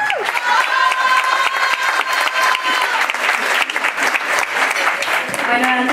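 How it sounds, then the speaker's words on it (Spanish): A large audience of women gives loud, sustained applause at a DIF ceremony in Cuautla, Mexico. There is a brief whistle-like tone near the start, and the dense clapping fills the whole stretch. "El aplauso fuerte para Brenda Isabel Vigena."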